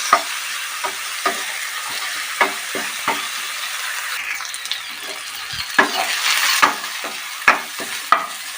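Chopped coriander fries with eggplant and tomato in a pan, giving a soft constant sizzle punctuated by repeated close spatula scrapes and clacks against the metal as the mixture is stirred.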